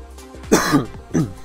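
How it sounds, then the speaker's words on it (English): A person coughs and clears the throat, two harsh close bursts about half a second apart, loud against a quiet background. "Sorry about all the coughing."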